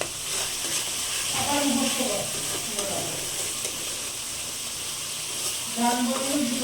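Spice paste sizzles and fries steadily in hot oil for a crab curry, a continuous hiss with occasional stirring scrapes, while someone speaks over it at intervals.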